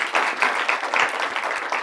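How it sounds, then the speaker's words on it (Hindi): An audience at a public event on the Pahalgam attack and Pakistan claps together in a brief burst of rhythmic, moderately loud applause with no talk over it. "इनके लिए भी ताली हो जाए"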